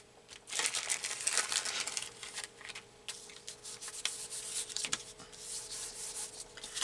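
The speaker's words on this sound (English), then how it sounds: "I kind of like to rub it over this page too." An embossing pad is rubbed over a paper page for a junk journal collage, giving a steady papery scratching and crinkling that rises and falls in strokes over several seconds, close and fairly quiet, with no talking.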